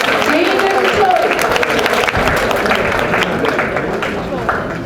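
Audience applause at a Korean-language teachers' academic conference, a dense steady clapping from a crowd that carries on throughout, with voices mixed in underneath.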